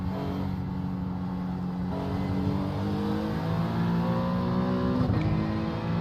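Several GT3 race cars and an LMP2 prototype lapping Watkins Glen in the iRacing sim, engines droning loud and steady, pitches climbing together through upshifts, with no talk.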